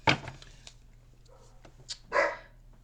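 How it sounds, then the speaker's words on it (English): A dog gives two sharp, close barks about two seconds apart, with a couple of faint yips between them over a quiet indoor hum. "Sorry about my dog."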